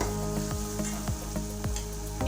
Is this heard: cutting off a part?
no